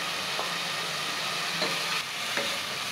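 Ginger sizzles steadily in hot cooking oil for a chicken tinola-style dish, a dense, even frying hiss with a few faint stirring clicks and no voices.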